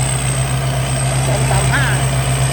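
A Thai Seng combine harvester engine runs in a field with a steady, loud, low droning hum that holds level throughout, with faint voices in the background.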